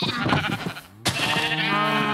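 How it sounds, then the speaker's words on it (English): Blocky Minecraft sheep crowded in a pen bleat in a few drawn-out, wavering calls, one fading before a sharp click and another long bleat, close and clear with no talk. "The sheep are quite crowded in that pen."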